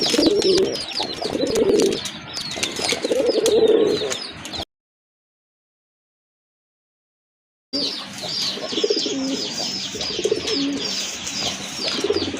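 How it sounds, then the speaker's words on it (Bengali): Local pigeons coo repeatedly at a pigeon sale, with scattered chirps among the birds; the cooing stops for a few seconds of silence partway through, then resumes close and busy. "মাশাল্লাহ খুবই অ্যাক্টিভ কবুতর"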